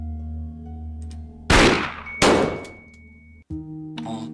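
Two loud gunshots boom in a 7 Days Origins game scene, each a sharp broadband crack with a long decaying tail, set against a steady low game hum and faint metallic clinks.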